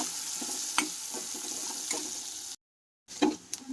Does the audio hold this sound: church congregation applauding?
no